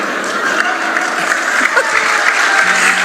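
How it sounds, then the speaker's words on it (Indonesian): At a Christian church sermon, steady applause from the congregation fills the clip, loud and continuous, with a few voices mixed into the clapping. "Nggak usah tepuk tangan"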